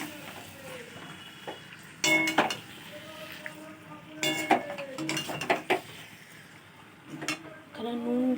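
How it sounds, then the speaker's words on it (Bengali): Meat is stirred in a kadai with a metal utensil, giving repeated loud clanks and scrapes in irregular bursts over a faint sizzle, close up. "এটাকে ভালো করে নাড়বো।"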